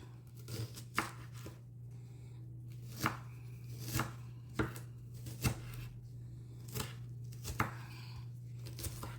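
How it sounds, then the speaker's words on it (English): Onions chopped with a knife on a cutting board for lamb stew, a series of separate sharp knocks at an irregular, unhurried pace over a steady low hum, close and fairly quiet, with no talking. "Cut your onions how you want, guys. Big or small is your choice."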